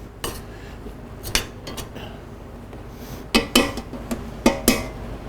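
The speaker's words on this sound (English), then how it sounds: "get that stirred up as much as you can." A utensil stirs a roux of flour, oil and butter in a pan, giving close metallic scrapes and clinks that come in irregular strokes, sparse at first and then a quicker cluster of louder knocks.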